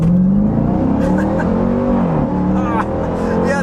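A 2025 Dodge Durango Hellcat with its supercharged V8 pulls hard at lower speeds, the engine note rising loud and close through the run with a steady rev climb.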